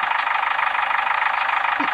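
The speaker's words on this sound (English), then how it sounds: "The engine on that thing. You can hear it purr." A vehicle engine in a video game purrs at a steady idle, a smooth, even hum with a light rhythmic pulse, moderately loud and unbroken.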